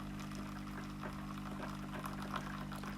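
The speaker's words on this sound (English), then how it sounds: "then it just tops it up with some more hot water to the level that I want it in my coffee cup" A Nespresso Expert machine tops up an Americano with hot water, a steady close liquid pour and hiss running evenly for about three seconds over a low constant machine hum.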